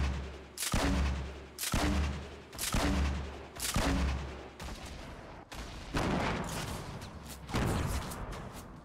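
Semi-automatic gunfire in a shooter video game, loud repeated bursts of shots in a steady rhythm of roughly one volley per second, continuing across the whole stretch.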